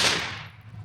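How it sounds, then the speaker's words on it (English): A single gunshot fired at a steel target rings out close and sharp, then its echo decays over under a second with no voices. "We're going to shoot the steel first."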